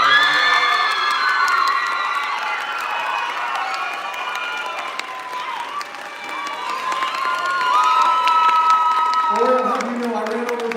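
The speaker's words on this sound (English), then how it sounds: "I want everybody to give a round of applause for Miss Ori." An audience applauds and cheers for Miss Ori, with excited shouts and whoops rising over a steady wash of clapping that carries from start to finish at fairly high volume.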